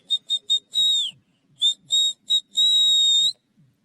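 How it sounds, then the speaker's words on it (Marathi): A cartoon character whistles in a Marathi cartoon comedy: three quick chirps, a longer falling note, then three more short blasts and a long steady tone, clear and close with no talking. "एकदम चांगली शिट्टी तर मीच वाजवतो"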